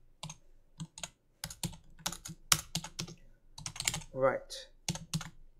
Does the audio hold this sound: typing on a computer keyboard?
yes